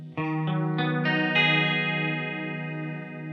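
Electric guitar on the clean channel of a small Yamaha THR5 amp with chorus engaged, several picked notes layering into a sustained, swirling chord, close and steady, no talking.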